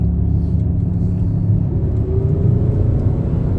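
A 2005 Ford Freestyle's engine idles after sitting about two years, a steady low rumbling hum with a faint whine, close and continuous with no talk.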